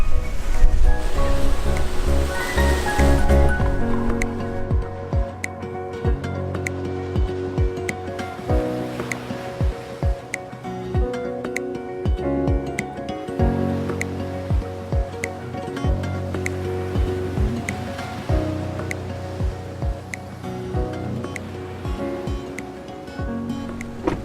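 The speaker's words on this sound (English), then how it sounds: "It is so windy." Strong wind roars by the ocean on the Road to Hana, Maui, with crashing surf, loud and continuous, while music plays throughout.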